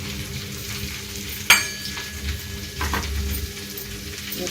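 Carrots, garlic, curry leaves and coriander fry in a pan with a loud, close, continuous sizzle, broken by a sharp clank of a utensil and some scraping as the mix is stirred.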